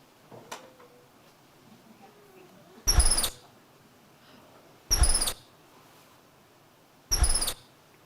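A capuchin monkey gives three short, shrill squeaking calls, evenly spaced about two seconds apart, each a brief bright burst over a quiet background.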